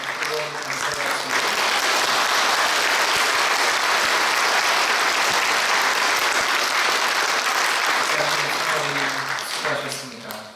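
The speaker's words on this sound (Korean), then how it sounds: "다시 한번 목사님과 성도님을 위해 뜨거운 감사의 박수" A church congregation at a pastor's retirement thanksgiving service claps in a long, loud, dense round of applause that swells and then tapers off, with a voice speaking at the start and end.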